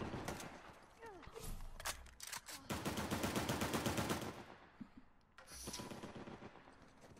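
Rapid bursts of automatic gunfire rattle through an Uncharted 4 match, loud strings of shots with short pauses between them, while a voice talks over the shooting at times.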